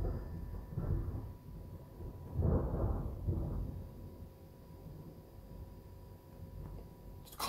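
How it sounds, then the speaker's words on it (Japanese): Low thunder rumbles from a distance in a few soft swells, with faint steady background noise in between. "ちょっと雷が鳴っておりますけど"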